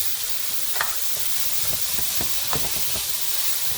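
Ground turkey browning in a pan, a steady close sizzle and hiss of frying meat with occasional scraping stirs, no talking.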